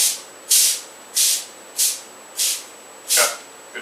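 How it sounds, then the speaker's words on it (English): Cooking spray from an aerosol can misting onto a pan, five or six short hissing bursts in an even rhythm with brief pauses between, close and fairly loud with no talking. "So we need cooking spray on there."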